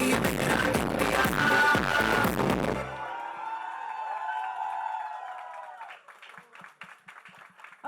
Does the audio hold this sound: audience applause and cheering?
yes